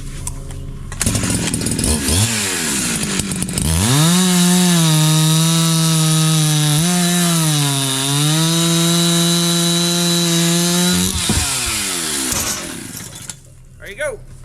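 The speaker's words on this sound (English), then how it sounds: "so we're gonna saw it off, put it right in the box" A chainsaw revs up and cuts steadily through a cedar log for several seconds, its loud buzzing pitch dipping under load, then winds down.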